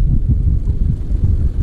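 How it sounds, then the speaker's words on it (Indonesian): Strong wind buffets the microphone at a fishing spot, a loud, low rumbling roar with uneven gusts throughout and no other clear sounds. "suara anginnya di sini sangat kencang"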